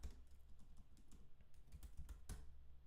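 Keys clatter on a computer keyboard in quick, uneven bursts, close and clear with no talking, as a name is typed into a web browser.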